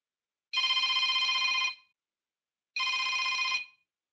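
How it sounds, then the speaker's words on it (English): Electronic telephone ring for an automated identity-verification call from Amazon Web Services, two bright trilling bursts of about a second each, separated by a short silence, clear and alone. "Please answer the phone."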